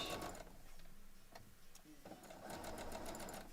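Sewing machine stitching rows of quilt pieces together with a scant quarter-inch seam, a steady rapid mechanical whir and needle chatter that pauses briefly midway, then resumes at close range.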